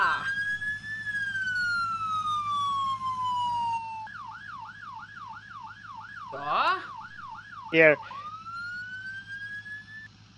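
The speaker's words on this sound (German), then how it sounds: "Das ist unsere Martinshorn, unsere Sirene für die Feuerwehrleitfahrzeuge" A fire command vehicle siren sounds from a 2010 Ford F350 regular cab mod in Farming Simulator 19, first a loud, steady falling wail, then a rapid warbling yelp, with two brief spoken interjections.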